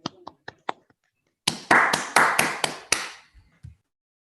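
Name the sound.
applause from online meeting participants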